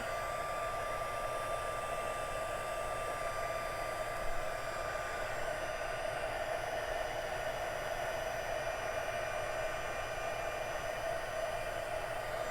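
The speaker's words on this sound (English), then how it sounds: "I'm waiting for my heat gun to glue, to heat up a little bit" A heat gun used for card crafting blows with a constant, even whooshing hum and a faint steady whine, close and unbroken for the whole stretch.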